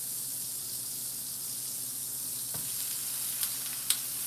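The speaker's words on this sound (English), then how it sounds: "we're going to sear the cabbage on both sides" Cabbage searing in a hot pan: a steady, soft sizzle hiss throughout, with a couple of faint clinks and taps near the end, quiet and close with no voices.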